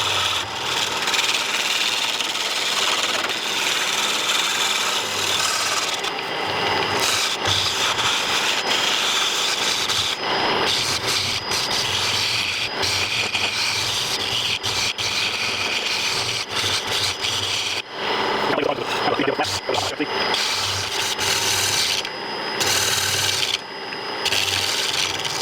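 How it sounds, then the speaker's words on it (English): A flat scraper works a spinning wood blank on a wood lathe while turning a barber's pole, giving a steady, loud, continuous rasping scrape with brief dips in pressure throughout, and no voices. "I think I'm going to skip over now and just go to a flat scraper"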